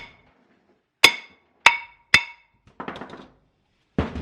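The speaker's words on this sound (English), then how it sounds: "jam my hammerhead back on and then give it a whack and try and break it loose" Hammer blows knock a brake rotor loose from a wheel hub during an HJ47 hub rebuild: three sharp metallic strikes about half a second apart, then a rattling clatter and one more hit, close and loud.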